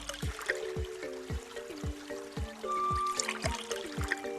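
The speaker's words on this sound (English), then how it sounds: "That egg held the right amount of water to fill that hole." Cartoon water pours into a hole in the ground as a steady series of bubbly, glugging drops, evenly spaced about twice a second, quiet and with no talk.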